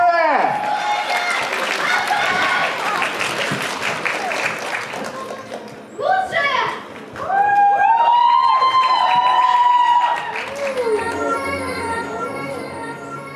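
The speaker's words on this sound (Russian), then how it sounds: "Ваши аплодисменты!" An audience at a geek convention's light-show contest applauds the Kemerovo dance troupe Paradox, loud sustained clapping and cheering under an announcer's amplified voice, with bursts of music-like tones in the middle.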